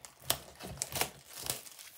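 Crinkly plastic wax wrapper of a baseball trading card pack being torn and crumpled in several short, sharp bursts, close up and fairly quiet, with no talking.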